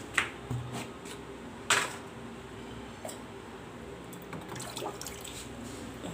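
Water pours and splashes in a home kitchen, with scattered drips and a few sharper splashes over a low running trickle, close by and fairly quiet.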